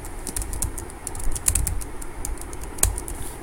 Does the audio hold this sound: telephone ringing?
no